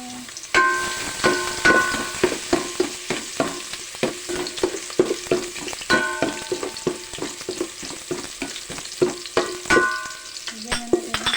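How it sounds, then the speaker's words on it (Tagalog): Garlic going into hot cooking oil in a pan, with a steady sizzle broken by frequent sharp clatters of a spatula stirring, fairly close and continuous with no talking. "Ayan, dahil mainit na, lagay na natin ang mantika. Sunod-sunod rin na natin, lagyan na natin ang bawang."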